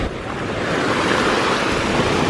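Rough sea waves wash onto the shore at Playa de Ses Platjetes in Ibiza, a constant loud roar of surf close by with gusty wind buffeting the microphone.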